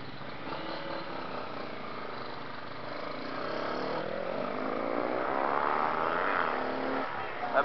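A four-cylinder motorcycle passes on a street, its engine note rising and swelling in pitch as it nears, then holding loud before fading slightly, heard over a steady background rumble.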